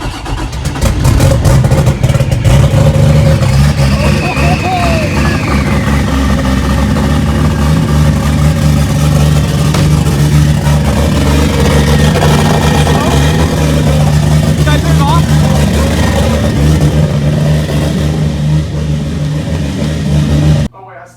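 A 1JZ engine swapped into a Nissan 240SX runs loud and close for its first start, a steady rough idle with rising revs, while people talk over it throughout.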